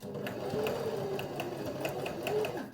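A sewing machine stitches a two-layer cotton face mask, its needle running in a steady, fast rhythmic clatter of regular ticks for a few seconds, close and moderately quiet with no talk over it.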